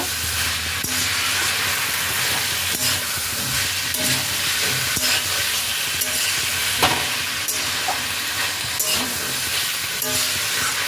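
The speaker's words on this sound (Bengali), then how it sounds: "ধনেপাতা কুচিটাকেও সবজির সাথে আরেকবার ভালোভাবে মিশিয়ে নেব" Mixed winter vegetable curry (panchmishali sabzi) being stirred with chopped coriander leaves in a pan, giving a steady close sizzle and hiss with repeated spoon scrapes and clatters throughout, no voices.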